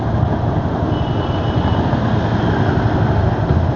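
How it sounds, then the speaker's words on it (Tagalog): Heavy rain pours steadily over traffic thick with motorcycles, a loud, unbroken broadband roar of rainfall and road noise with no distinct breaks. "Lakas ng ulan mga idol."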